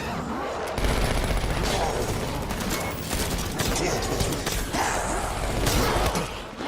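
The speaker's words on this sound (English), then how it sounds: "That classic Mark II fire noise." Mark II gun fires in a video game as a dense, continuous burst of gunfire, loud and close, with bright crackling bursts over heavy low rumble throughout.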